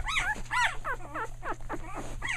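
A newborn puppy from a week-old litter cries loudly and close up, a rapid series of high, wavering yelps and whines running one after another without pause.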